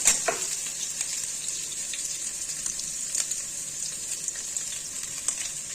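Drumsticks (moringa pods) lightly frying in oil for a tomato curry, a steady bright sizzle throughout with occasional small stirring knocks and a brief louder burst at the start.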